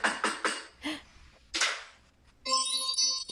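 A household door produces several sharp knocks and bangs at close range with short gaps between them. A bright, chime-like tone follows at the end.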